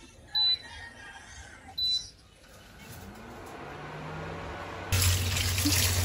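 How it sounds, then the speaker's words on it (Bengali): Jute leaves are washed under a running tap in a village kitchen. After birds chirp briefly, the water gushes in loudly near the end and pours steadily. "পাট শাকটা আমি সুন্দর করে ধুয়ে নিচ্ছি।"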